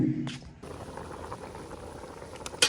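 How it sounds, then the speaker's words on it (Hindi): A pot of water boils at a rolling boil after vegetables are added for aloo pulao in a village mud house kitchen, bubbling steadily at close range, with a short voice and a knock at the start and a clatter near the end. "पानी में उबाल आ गया है"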